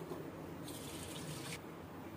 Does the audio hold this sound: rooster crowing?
no